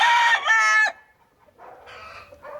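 A Bennett's gamefowl rooster crows nearby in a loud, harmonic call lasting under a second, and after a brief pause a second, fainter crow or cluck follows.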